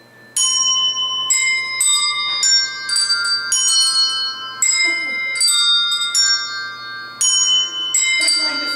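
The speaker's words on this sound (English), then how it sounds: "Official non-harmonic A+ payroll bell choir. So, ladies and gentlemen, go ahead. Start your bells." A workplace handbell choir rings a Christmas tune, with bright, sustained bell tones struck one after another in a steady, slightly uneven melody, loud and close, with ringing overtones.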